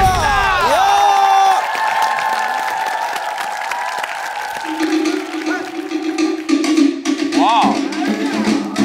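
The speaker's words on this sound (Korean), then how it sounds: "큰 박수로 출발합니다." A studio audience on a Korean variety show bursts into applause and cheering, loud at first with musical tones over it, then the crowd noise drops under music and scattered shouts.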